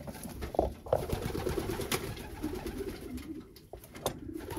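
Several racing pigeons coo steadily in a low, throaty rumble inside a cock bird breeding loft, with soft rustling and occasional clicks nearby.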